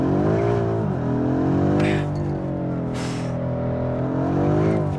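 A 2019 BMW M5 F90 Competition, rear-wheel drive, accelerates hard in first gear, its engine note climbing loud and close with a brief dip and a second rising pull, plus short bursts of tire noise.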